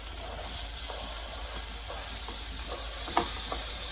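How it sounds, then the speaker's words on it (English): Ground beef fries in a pan with steady sizzling hiss, with occasional soft scrapes and clicks of stirring. "Love that sizzle."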